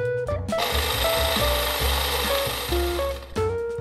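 A food processor chops garlic with olive oil, its motor roaring loud and close for about three seconds with a whirring, rattling blade churn, starting and stopping abruptly.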